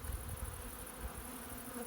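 Bees buzz close by a beehive in a continuous, soft drone with a few louder passes, no voices.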